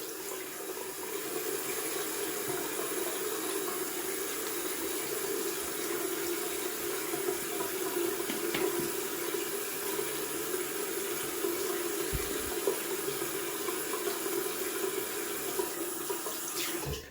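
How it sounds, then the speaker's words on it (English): Tap water runs steadily into a sink for a long stretch during a wet shave, a close, even rushing hiss with small splashes and no voices. "Okay, just hit that face with some water."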